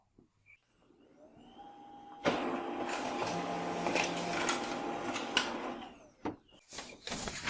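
A Xerox WorkCentre 3335/3345 laser printer printing a supplies report: a faint mechanical start, then a loud steady whirring feed and print run with rhythmic clicks, ending in a few separate clunks as the page comes out.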